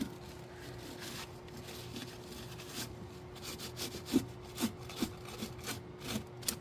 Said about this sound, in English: I always try and wipe it with a dry towel first, because sometimes the heat has baked that poo and it just kind of scrapes right off